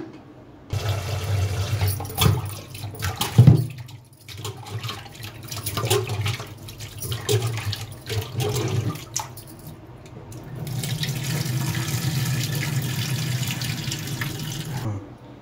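Raw mutton pieces are washed in a pot under running tap water, with steady splashing, sloshing and handling noises up close. A louder stream of water fills the last few seconds.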